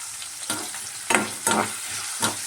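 Two large onions, cut to medium size, fry with spices in a pan, giving a loud close sizzle punctuated by several sharp bursts of hissing as the spatula stirs and turns them.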